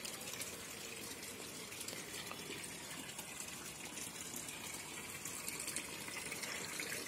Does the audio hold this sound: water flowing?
yes